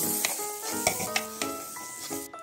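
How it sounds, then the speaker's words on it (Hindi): Spices and onion tempering in hot oil for a spiced urad dal khichdi, a steady close sizzle with several sharp crackling pops spread across the sound. "और यहाँ मैंने छौंका लगा दिया"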